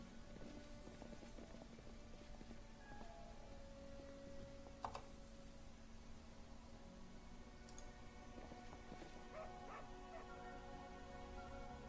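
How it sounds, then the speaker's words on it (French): A dog in the fantasy role-playing game Pathfinder: Kingmaker barks and yips in short bursts over quiet game music and ambience, faint overall. "Qu'est-ce qu'il y a le chien là?"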